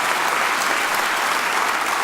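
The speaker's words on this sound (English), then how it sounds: "So yeah, you can clap for that, absolutely." An audience at a Black History celebration claps in a dense, even burst of applause, loud and steady throughout with no voices above it.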